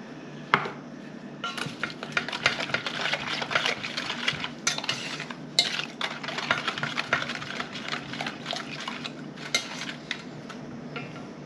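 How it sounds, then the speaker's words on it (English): Sugar being stirred into liquid in a bowl, a run of quick clinking and scraping strokes of a utensil against the bowl, close and fairly busy, starting after a brief pause. "I'm gonna add the sugar to the liquid and stir that in"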